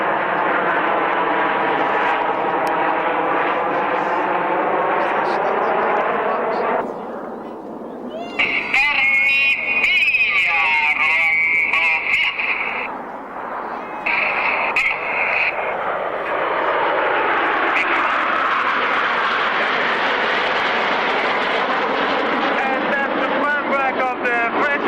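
An aircraft flies a barrel roll at the Woodford Airshow in 1999, its engine drone steady and broad beneath continuous commentary from a man over a loudspeaker.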